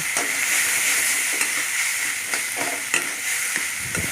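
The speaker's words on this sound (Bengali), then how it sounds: "দিয়ে ভালো করে আমি এটা নাড়াচাড়া করে নেব" A spoon stirring a vegetable puri filling mixture in a hot pan, with a steady frying sizzle and hiss beneath a few soft scrapes and knocks against the pan.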